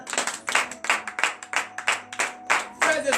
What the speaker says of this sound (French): Donne l'acclamation à l'Éternel.